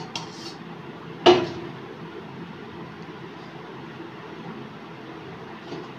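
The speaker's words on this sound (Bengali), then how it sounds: "এবার আমি আবার চাপা দিয়ে দেবো।" A metal lid drops onto a pan of simmering prawn and pointed gourd curry with a single sharp clatter, followed by a quiet, hissing background.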